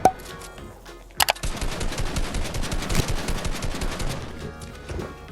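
Fortnite gunfire: a single sharp shot, a brief pair of cracks, then a long sustained burst of rapid automatic gunfire, loud and close, fading slightly at the end.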